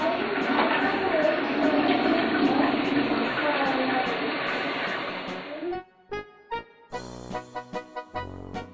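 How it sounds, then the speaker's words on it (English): A household toilet flushes with a loud, sustained rush of water for several seconds, then the sound stops abruptly and a voice and other clipped sounds follow. "Can we flush the toilet now?"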